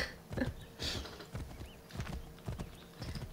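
A horse in Assassin's Creed 3 trots with clear, regular clip-clop hoofbeats and a faint whinny, close and moderately loud with game ambience between the steps.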